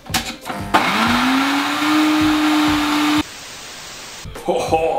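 A kitchen blender whirs steadily for a few seconds, mixing dumpling filling with sour cream under a closed lid, after brief talk before it starts; the motor pitch rises slightly as it spins up, then it cuts off.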